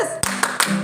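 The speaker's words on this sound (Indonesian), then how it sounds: "Tepuk Yesus." Children at a kids' church service clap in time, with about three sharp, close hand claps spaced evenly over a moment and a voice calling out between them.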